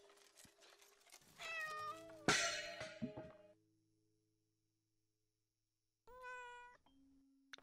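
A cat meows in Layers of Fear, several drawn-out rising cries with a clatter among them, then silence before one more close meow, loud and clear with no talk.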